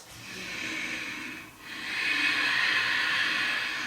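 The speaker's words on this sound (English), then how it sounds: "Take 2 deep breaths." Deep breathing during a yoga hip and shoulder flow, one long hissing exhale, a brief pause, then a second sustained breath, close and steady with no talking.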